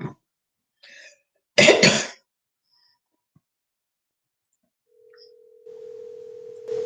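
A phone call rings out unanswered: a steady electronic tone sounds near the end after brief noises and a cough-like burst, with long quiet gaps between.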